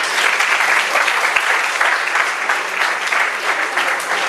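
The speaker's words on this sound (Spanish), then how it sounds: "un aplauso" Steady, dense applause from an audience at a poetry recital, a full room clapping loudly and evenly throughout without pause.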